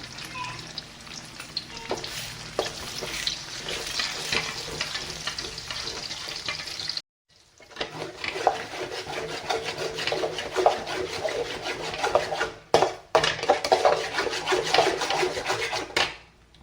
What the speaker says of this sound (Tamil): மூணு முட்டையும் இப்போ நல்லா வறுத்து எடுத்துக்கணும்